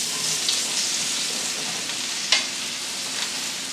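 Mushrooms sizzle in a hot pan over cooked onions, a close, steady frying crackle with a few stirring scrapes and one sharper clatter partway through, no voices.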